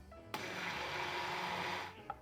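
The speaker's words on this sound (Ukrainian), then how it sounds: "І для більш гладкої текстури можна пробити блендером." Chocolate glaze with butter is smoothed with a blender in a single steady whir lasting about a second and a half, starting abruptly, then stopping with a faint clunk.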